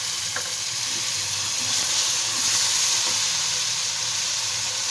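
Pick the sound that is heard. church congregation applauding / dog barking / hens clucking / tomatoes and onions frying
tomatoes and onions frying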